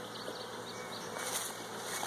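Honey bees buzz in a steady, close drone around hive frames, a dense insect hum with no other sounds.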